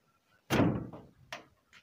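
A code-locked bathroom door being opened gives one loud, close thud-like clunk with a short decay, followed by a couple of softer knocks and clicks.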